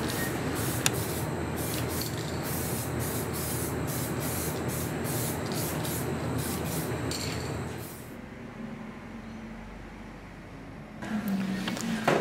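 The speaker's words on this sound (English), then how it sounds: "Finally, spray a clear coat over the parts." Aerosol clear coat hisses steadily over headlight parts for about eight seconds and then stops, leaving quiet room tone before a short rustle at the end.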